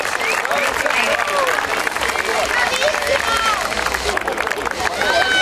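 Applause from an outdoor crowd at an agricultural festival in Cogolo, steady clapping mixed with cheering and babble, with voices calling out over it throughout.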